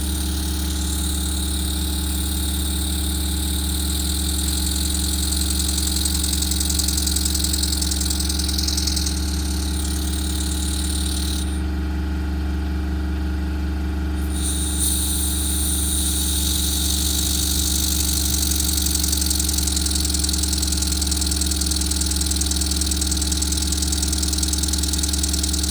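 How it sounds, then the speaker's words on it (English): A Clevedon Steam Libra twin-cylinder steam engine runs steadily with a constant, even mechanical drone and a strong low hum, holding close and loud throughout with no talk. "Great running little engine."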